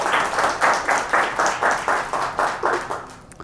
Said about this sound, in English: round of applause for Abdul, everybody.